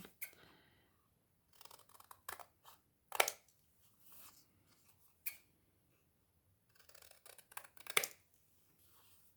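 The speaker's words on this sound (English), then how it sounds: "And I'm just going to cut." Scissors snipping patterned Christmas designer paper for a slimline card, a series of quiet, close crisp cuts in scattered bursts with short pauses between.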